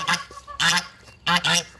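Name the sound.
geese honking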